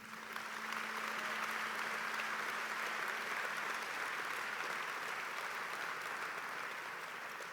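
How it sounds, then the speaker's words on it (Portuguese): A church congregation applauds during a sermon, a steady, even wash of many hands clapping that holds at a moderate, somewhat distant level for several seconds without a break. "Você pode aplaudir o nome de Jesus por isso?"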